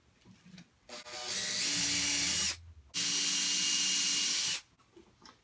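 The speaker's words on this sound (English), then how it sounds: "I'm going to do some pre-drilling here, holding it nice and flush" A power drill whirs steadily while pre-drilling into wood for workbench shelf frames, stops briefly, then runs again for a second long burst before cutting off.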